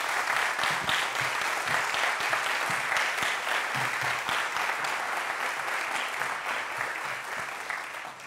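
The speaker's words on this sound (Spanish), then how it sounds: "Y yo les pido un fortísimo aplauso para ellos." A large indoor audience at a volunteer recognition gala in Avilés gives dense, sustained applause for a saxophone quartet, steady and loud throughout before easing slightly at the end.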